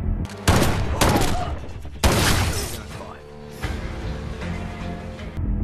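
Gunfire in a Jason Statham action film scene as intruders are shot indoors, with sharp loud bursts near the start and again around the middle over a busy, dense soundtrack with some voice underneath.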